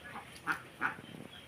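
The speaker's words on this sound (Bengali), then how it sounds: "আর এইদিকে দেখো হাঁসগুলো প্যাক প্যাক প্যাক প্যাক শুরু করে দিয়েছে" Ducks on a farm near a flooded jute field give two short quacks, faint and somewhat distant, over quiet background.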